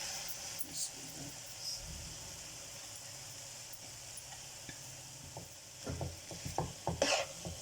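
Daal mash lentils fry in separated ghee with spices. A faint, even sizzle comes with light stirring scrapes that grow busier near the end, with some talk.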